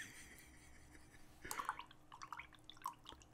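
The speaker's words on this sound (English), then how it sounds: "That's the sound of me cleaning off my" A paintbrush swished and rinsed in a small jar of water during sketchbook painting: faint, close sloshing and a few light drips after a quiet start.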